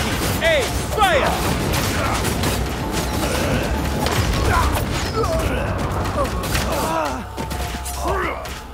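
Soldiers in the video game Game of Empires fire a volley, a dense continuous clatter of gunshots and mechanical battle noise at close range, with shouted voices mixed in.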